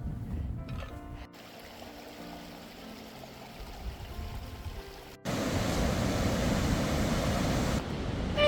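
A river runs beside a hiking trail in Kyrgyzstan's mountains after light rain, its steady broadband rush continuous throughout, louder and closer in the second half as the path nears the water, with no talk.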